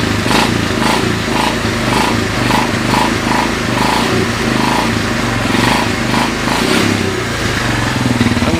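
A 2000 Lakota ATV engine idles after a cold start with the choke fully off, a loud, continuous, slightly uneven putter with rhythmic pulsing, close up and alone.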